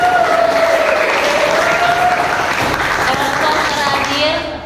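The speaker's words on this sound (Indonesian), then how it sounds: "kita kasih tepuk tangan untuk kelompok" Classroom applause for a student group during a teacher training session, a busy continuous patter of hands with a voice talking over it, fading at the end.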